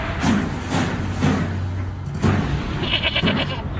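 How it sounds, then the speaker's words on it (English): A real goat bleats loudly in repeated wavering cries against a steady low background hum, during a live bracket-style championship event. "That's a real goat."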